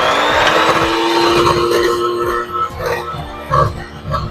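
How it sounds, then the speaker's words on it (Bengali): Egg yolks are beaten with sugar for a tres leches cake, a steady loud whirring mixer drone that wavers and dips as the beaters move through the thickening mixture. "এবার আমরা চিনির সাথে এগ ইয়কটাকে বিট করে নেব"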